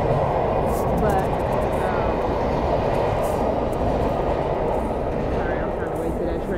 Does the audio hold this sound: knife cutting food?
no